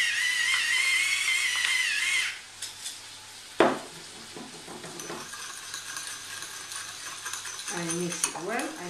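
A spoon stirring vinegar, salt and white pepper together in a small bowl, heard as quiet scraping and clinking with a brief sharp knock partway through, while someone talks over it.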